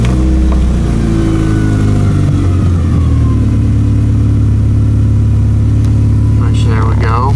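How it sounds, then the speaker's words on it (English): A car with a bad exhaust leak cranks and fires up, then revs and settles into a loud, rough, raspy idle close to the microphone, with brief whines and chirps near the end. "So we can go ahead and start the car."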